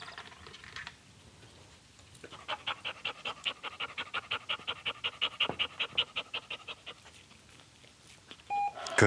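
A dog pants in steady, rapid rhythm close by during a fetch training session, about two dozen quick breaths in a row between quieter stretches, with a brief clunk at the end.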